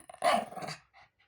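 A dog gives a short, low growl up close, a single rough rumble lasting under a second, followed by faint breathing.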